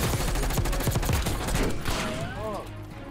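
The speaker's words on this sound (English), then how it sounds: "I don't know who's shooting at me." Call of Duty Warzone gunfire rattles in rapid, dense bursts of overlapping shots, loud and continuous throughout, with a voice talking over the shooting.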